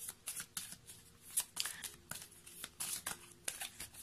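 Oracle cards for an angel card reading are shuffled by hand close up, giving repeated soft riffling and papery flutters in uneven bursts with short pauses in between.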